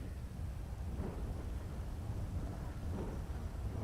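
A video game thunderstorm in a GTA roleplay session gives off a steady low rumble of thunder mixed with rain noise, continuous and fairly faint with no talking.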